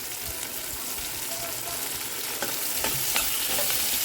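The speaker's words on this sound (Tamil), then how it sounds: "ஒரு பெரிய வெங்காயத்தில் 3 வெங்காயம் வெட்டி போட்டேன். இதுக்கு உப்பு போட்டேன். கருவேப்பிலை போட்டிக்கிறேன்." Onions, salt and curry leaves fry in a pan for squid roast, giving a loud, continuous close sizzle with occasional stirring scrapes and a few soft clicks of the spoon.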